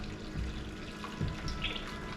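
Tap water runs steadily into a beer brewing kit as 23 litres are added for a 1% ABV lager, a continuous close hiss and splash with no talking.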